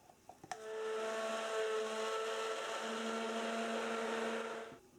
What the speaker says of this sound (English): using our stick blender to bring them to a fairly light trace today